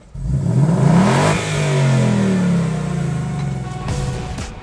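A 2019 Ford Mustang Bullitt V8 with an active valve performance exhaust revs hard, rising in a deep, loud roar that dips briefly and swells again, close by with no talk.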